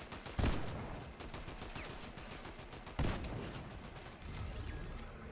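Gunshots ring out in the video game Fortnite: two sharp, loud reports a few seconds apart, with a steady layer of rapid background gunfire and game noise between them.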